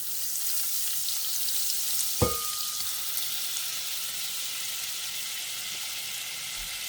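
Butter hitting hot avocado oil in a pan gives a steady, moderate sizzle, with one brief louder clink partway through and a continuous hiss throughout.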